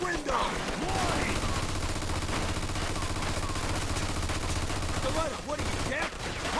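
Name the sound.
machine gun fire in the video game Mafia 2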